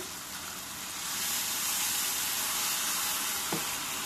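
Sizzling hiss of a tomato curry frying in a pan as large shingi fish pieces go in, steady and close, swelling louder after the first second, with a brief soft tap near the end.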